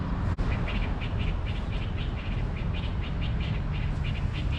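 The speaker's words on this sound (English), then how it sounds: "just listen to all the birds" Soft, repeated high bird chirps at a steady rhythm over a constant outdoor hiss in Bangkok, Thailand, fairly distant and not very loud.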